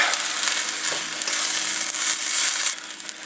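Rice is stir-fried in a pan for pork fried rice, broken apart and mixed; a close, crackling sizzle with busy scraping and tossing of the grains, and no talking.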